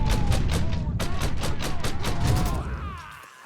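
Intense gunfire in the video game Mafia 3, a dense burst of rapid automatic shots at close range that fades out at the end.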